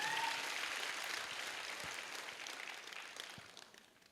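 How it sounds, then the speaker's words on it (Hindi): An audience at an AWPL Diamond achievement event gives a round of applause, a dense, steady clatter of many clapping hands that slowly fades toward the end. "मैं चाहूंगा एशन गुप्ता सर के लिए भी एक जबरदस्त ताली होनी चाहिए"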